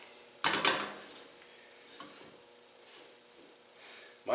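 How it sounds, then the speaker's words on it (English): Batter hits a hot pan for gluten-free breakfast wraps and is swirled round, a burst of sizzle and pan scraping at the start, then a quieter hiss with occasional clinks of cookware. "you want to immediately swirl the pan to create more or less a 7-inch diameter disc"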